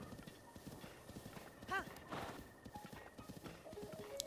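Horse hooves clop rhythmically in The Legend of Zelda: Breath of the Wild, with a short neigh partway through and a person talking over the game sound.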